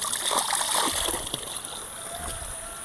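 Water splashing and sloshing while a long machete is washed, a continuous close wet splatter with gurgling, the bursts of splashing strongest early and settling into a steadier wash.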